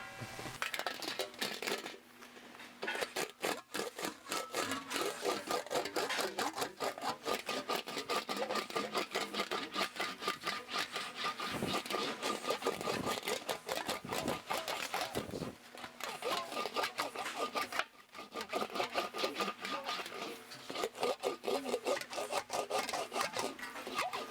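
An English wheel rolls a thin 20-gauge sheet metal panel back and forth in steady passes, giving a continuous rasping, rubbing drone that runs almost unbroken for the length of the clip, with brief pauses between passes.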